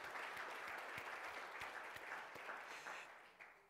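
An audience at an afternoon higher-education forum claps warmly for a guest speaker, a fairly quiet patter of many hands that holds steady and then tapers off near the end.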